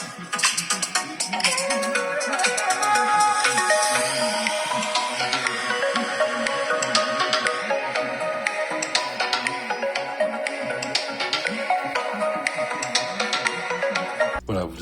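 Melodic electronic ringtone from an Honor 200 Lite 5G phone, a bright layered tune playing continuously and fairly loud with sweeping tones, ending abruptly at the close.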